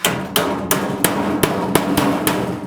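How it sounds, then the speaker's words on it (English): Hammer blows on the bent tabs of sheet-metal HVAC duct drive cleats, eight sharp metallic strikes at a steady, slightly uneven pace, close and loud with no talk. "just give a good hammer over."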